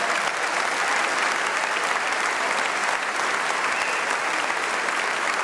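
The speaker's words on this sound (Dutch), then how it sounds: "geef ze nog even een David applaus." Audience in a hall at a Frisian sports gala applauding: loud, dense, unbroken clapping from a large crowd, sustained evenly throughout.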